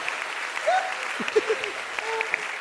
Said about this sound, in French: C'est fou qu'on m'applaudisse pour ça.